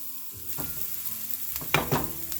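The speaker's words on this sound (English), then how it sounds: "The first thing I want to do to make these meatballs is to saute these onions." Chopped onions sizzle in olive oil in a hot skillet, a steady close frying hiss with a few louder crackles and stirring scrapes toward the end.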